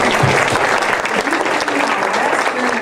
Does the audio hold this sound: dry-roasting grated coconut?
no